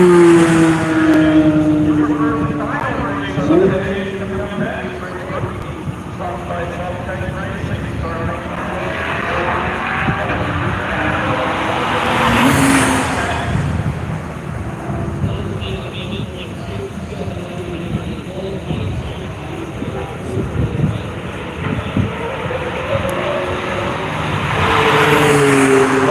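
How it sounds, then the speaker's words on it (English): A Michelin Corvette race car at World Wide Technology Raceway roars along the track near the checkered flag, its engine drone rising and falling as other cars pass, under steady announcer talk. "there he is, the Michelin Corvette getting ready to take the checkered flag"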